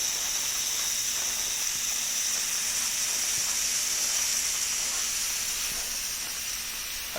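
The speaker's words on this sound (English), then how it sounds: "What we're going to do now is to actually steam on top of the mattress." A steamer held over a mattress during bed bug treatment gives a steady, close, continuous hiss of escaping steam that stays even throughout, with no talking.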